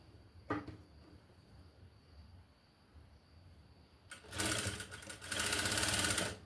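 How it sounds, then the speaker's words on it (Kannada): A sewing machine stitches piping onto a blouse lining: after quiet handling and a brief click, the motor starts with a loud, rapid whirring run in two bursts near the end, close to the listener. "ಪೈಪಿಂಗನ್ನು ಇಟ್ಕೊಂಡು ಸ್ಟಿಚಿಂಗನ್ನು ಮಾಡ್ಕೊತೀನಿ"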